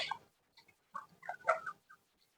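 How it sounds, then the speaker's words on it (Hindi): Hens shut in a cage before being let out give a few faint, scattered clucks and short calls in an otherwise quiet setting. "मुर्गियाँ बंद हैं और ये आप देख सकते हैं, ये इसी वेट में है कि कब मैं इनका पिंजरा खोलूं और ये बाहर आए।"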